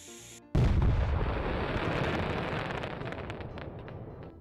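Firework explosion in the video game Firework Mania, a sudden heavy boom after a brief quiet lead-in, followed by a long crackling, decaying rumble.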